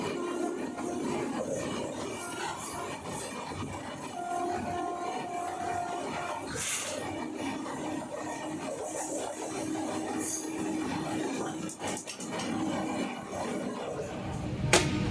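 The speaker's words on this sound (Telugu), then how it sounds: "మన ట్రైన్ గూడూరు జంక్షన్కి వచ్చింది, ఆగింది అండ్ గూడూరు జంక్షన్ నుండి బయలుదేరిపోయింది" A passenger train arrives at, stops at and pulls out of Gudur Junction, heard from on board as steady rumbling and rattling with scraping metallic squeals and a few sharp clanks.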